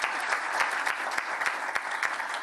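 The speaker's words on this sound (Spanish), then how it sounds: "Vamos a darle un fuerte aplauso, por favor, a la comisionada por haber moderado esta actividad." An audience gives sustained applause to a commissioner for moderating a session on personal data protection for candidates, a dense, even clapping with a few sharper individual claps standing out.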